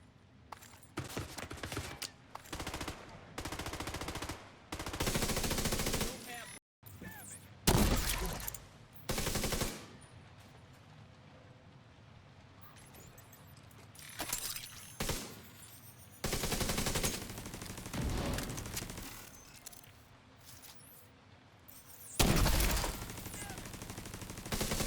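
Gunfire in the video game The Division 2: repeated loud bursts of automatic weapon fire in separate volleys, each a few seconds long with brief gaps between them, close and dominant with no talk.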